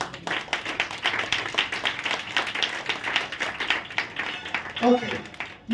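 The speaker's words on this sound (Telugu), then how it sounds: "చప్పట్లు కొట్టు సార్ గట్టి." A church congregation claps hands in dense, overlapping bursts that run steadily throughout, mixed with voices and fading slightly toward the end.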